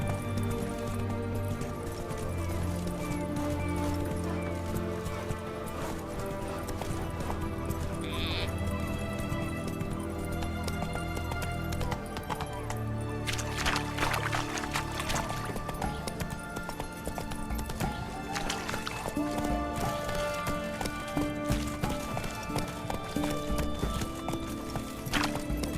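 Horse hooves clip-clopping at a steady gait in The Witcher 3, a continuous rhythmic clatter under game music with a brief whinny partway through.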